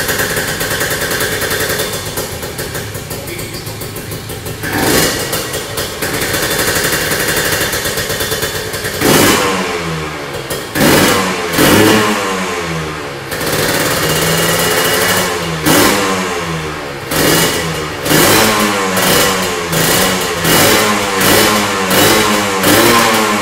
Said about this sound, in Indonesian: Kita tes dengar suaranya motor ini seperti apa sih.